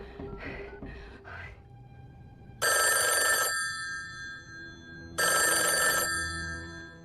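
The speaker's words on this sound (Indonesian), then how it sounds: "kaget mendengar teleponnya yang berdering" An old-style telephone bell rings twice in loud bursts, each lasting about a second, separated by a pause, after some faint muffled sounds.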